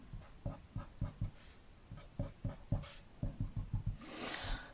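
A marker or pen draws a line segment on a board in a series of short, rhythmic squeaky strokes, close and moderately loud, ending with a brief rubbing swish.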